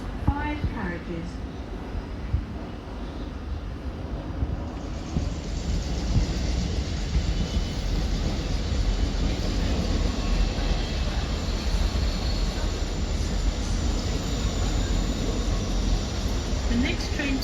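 Trains at Clapham Junction station rumble steadily for the whole stretch, a broad, loud rolling noise that swells after the first few seconds and holds, with a platform announcement voice heard over the start.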